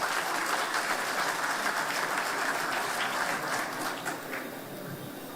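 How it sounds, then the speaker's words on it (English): An audience at a water industry conference expo gives a round of applause, a dense, distant-sounding wash of clapping that stays steady and then gradually thins out. "Round of applause, everyone."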